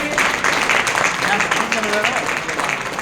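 An audience at a marketing plan presentation claps steadily and densely throughout, a continuous wash of applause with voices mixed in underneath.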